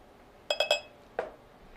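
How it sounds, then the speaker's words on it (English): A cocktail being stirred and shaken in a glass gives three quick, bright glassy clinks, then a single clink after a short pause, close up with no talk. "give it a little shake, stir it up,"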